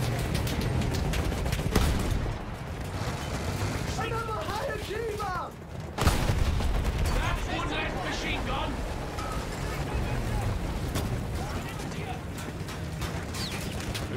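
Artillery and field guns fire in the Battlefield 1 video game, a dense battle din with two heavier booms standing out over continuous rumble, and voices can be heard in the mix.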